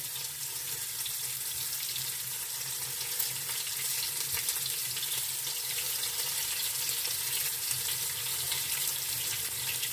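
Buckwheat patties fry in oil in a pan, giving a continuous close sizzle and crackle at a fairly quiet, even level throughout.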